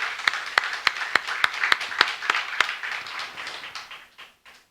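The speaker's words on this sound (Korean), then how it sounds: "먼저 51주년까지 지키시고 보호하신 하나님께 감사와 영광의 박수" A church congregation applauding in praise at a 51st anniversary Sunday service, a short burst of loose, rhythmic clapping from many hands that thins out and fades toward the end.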